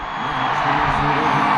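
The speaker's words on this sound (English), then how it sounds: "That's the sound of a crowd inside a cricket stadium" Dense crowd roar with whoops and cheering inside a cricket stadium in Gujarat, India, loud and sustained throughout, with no distinct single voices.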